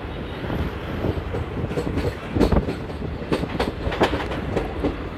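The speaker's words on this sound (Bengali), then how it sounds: "ট্রেন আমাদের প্রবেশ করে গেল ফারাক্কা ব্যারেজে" Gour Express passenger train, Malda to Sealdah, rolls onto the Farakka Barrage at night, heard from inside with continuous loud rumbling and rhythmic clickety-clack wheel beats over rail joints.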